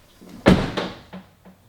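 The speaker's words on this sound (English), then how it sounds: "we have adjusted the doors and, well, it looks like that they close perfectly" A car door on an Audi Q3 Sportback being shut after adjustment, one solid close with a firm thud followed by a brief second knock and faint rattles, heard nearby in a quiet space.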